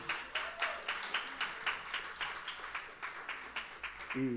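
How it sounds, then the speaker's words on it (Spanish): A church congregation claps together in a steady, rhythmic beat at a Spanish-language worship service, moderately distant, with a voice rising briefly near the end. "Un aplauso al Señor Jesucristo."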